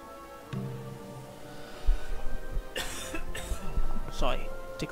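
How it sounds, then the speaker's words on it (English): A tickly cough breaks out in a few rough bursts with throat clearing, close to the microphone, during a Civilization IV let's-play session. "Sorry, tickly cough."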